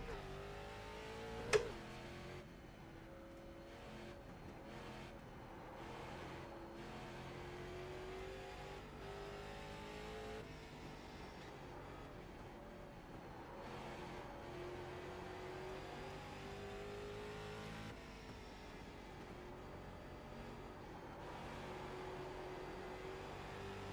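Race car engine lapping in the iRacing sim, a sustained close engine roar that rises and falls with revving and gear shifts for the whole stretch, plus one sharp click near the start.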